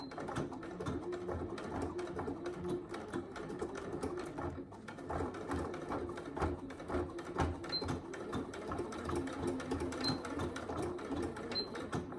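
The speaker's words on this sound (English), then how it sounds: "I run a few stitches over this part just to secure in place." A sewing machine stitching a fabric wash bag runs in steady rapid bursts of needle clatter, close and continuous, with no talking.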